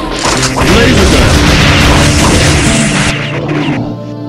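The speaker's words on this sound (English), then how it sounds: "Laser gun." A laser gun fires in Metal Slug Commander with a loud, sustained crashing blast lasting several seconds, heavy and mechanical, before cutting off into a fading tail.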